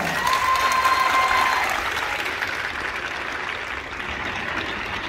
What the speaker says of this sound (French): Vos applaudissements pour Jeanne Baudard.